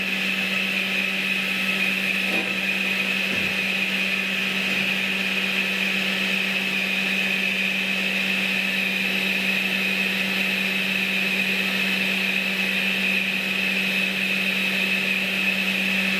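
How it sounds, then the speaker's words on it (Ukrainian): A steady, loud whining drone of a grinding machine shaping a metal part for a T-25 tractor hydraulic tank to size, holding a constant high pitch over a low mechanical hum. "Далі ми шліфуємо це діло в розмір, в зазорчик."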